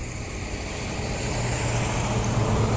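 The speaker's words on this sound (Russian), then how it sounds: "Давайте запустим трактор." A 20-horsepower 4WD three-cylinder mini tractor with a rotary tiller settles into a steady, droning idle just after starting, heard close up and alone.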